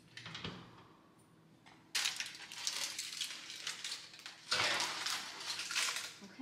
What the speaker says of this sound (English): let's put this in the oven